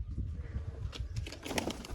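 A plump pigeon flying in to peck at scattered grain in a backyard pigeon coop, with soft cooing and fluttering wings over low background rumble, close by and moderately loud.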